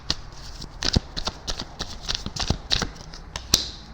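Tarot cards being shuffled by hand, a quick run of crisp riffling slaps and flutters repeated in uneven bursts, close and fairly loud, with no talk.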